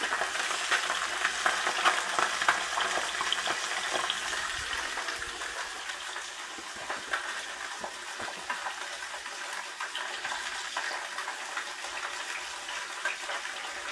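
Trout fillets, browned and just flipped, sizzle and fry steadily in a pan outdoors, a continuous bright crackle with occasional spits, fairly close and alone without talk.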